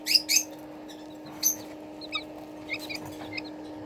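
Month-old Silkie chicks pecking at feed, giving soft high clucks and peeps in scattered short bursts against a steady low hum, close by and with no talking.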